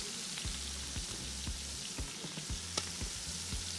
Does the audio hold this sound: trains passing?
no